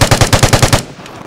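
Rapid automatic AK rifle fire in the online shooter Vigor, a burst of about eight evenly spaced, loud, close shots lasting under a second before cutting off to quiet.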